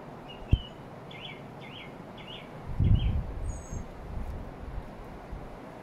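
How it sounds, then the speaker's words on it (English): Outdoor ambience in a garden by the ocean with the tide rolling in, a bird repeating short chirping phrases, a brief knock early on and a soft rushing swell midway. "And you can hear the birds in my garden."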